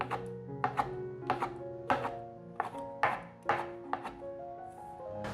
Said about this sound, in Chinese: 把香菇切小丁